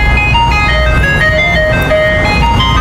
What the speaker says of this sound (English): Ice cream truck is right there.